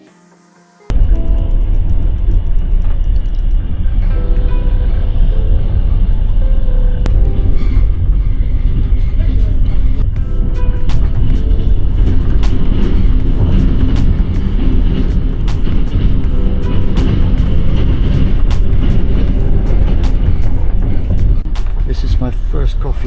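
Steady loud rumble inside a daytime sleeper train running from Kyiv to Kharkiv, a continuous low drone with faint rail rattles and occasional tonal whines, starting abruptly after a brief quiet moment.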